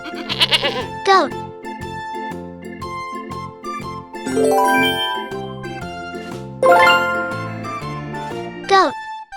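A farm goat gives two or three wavering bleats, near and fairly loud, spaced across the stretch and laid over cheerful looping background music.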